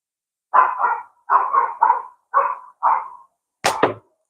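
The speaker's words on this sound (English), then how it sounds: "Those dogs you can hear barking, that's not mine." Dogs bark behind a fence, a series of about eight distinct mid-range barks in quick pairs and singles, followed by a sharp clatter near the end.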